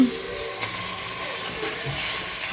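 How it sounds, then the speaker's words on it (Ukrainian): Meat frying in a pan on a home kitchen stove, a steady close sizzle and hiss throughout with someone speaking quietly over it. "Коли м'ясо посмажиться, добре такої коричневої скоринки."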